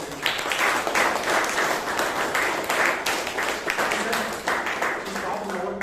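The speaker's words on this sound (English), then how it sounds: "give a huge round of applause to Toastmasters" An audience at a Toastmasters club meeting in Bangalore gives a sustained round of applause, a dense, fairly loud wash of clapping that rises and falls slightly throughout.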